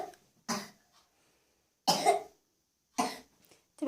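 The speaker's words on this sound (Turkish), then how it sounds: "Tabii arada da öksürüyordu." A child coughs four separate times, each a short, fairly close cough with quiet pauses between, in an otherwise silent room.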